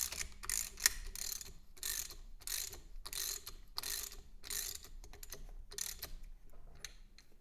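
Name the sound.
tightening a fastener on an MG TC generator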